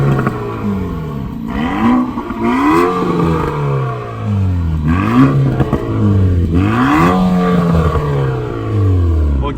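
A stationary Renault Sport Trophy with its exhaust valves open revs hard several times, each loud, close rise and fall of engine pitch ending in a quick drop back to idle.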